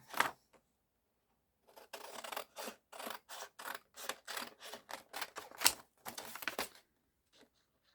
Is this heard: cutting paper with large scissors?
yes